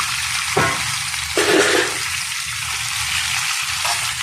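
Green chillies and okra frying in a little mustard oil, a steady broadband sizzle throughout with brief louder spits and crackles as pieces are stirred in the pan.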